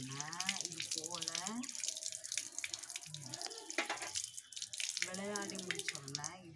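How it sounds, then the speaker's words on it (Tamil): Hands are washed under a running tap, with steady splashing water running beneath a voice that talks almost continuously. "விளையாடி முடிச்சோன்ன இது போல கை கழுவணும்."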